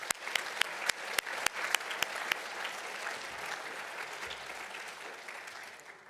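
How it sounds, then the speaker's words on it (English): Audience applause for award recipient Georgina at a Brain Injury Awareness Week event, opening with sharp individual claps that blend into a steady wash of clapping and slowly fade. "Please join me in giving Georgina another round of applause."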